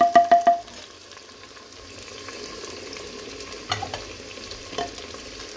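Tomatoes and spices fry in a pan, opening with a quick burst of loud metallic taps, then settling into a low steady sizzle with occasional stirring scrapes near the end.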